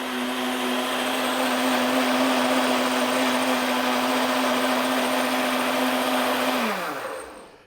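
Blender running steadily on high while pureeing carrot soup made from three large carrots, a loud continuous whir with a strong motor hum that holds for about seven seconds, then spins down and stops.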